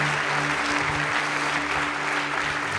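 Church congregation applauding during a worship service, a full, steady roar of many hands clapping throughout with faint voices and low musical tones beneath.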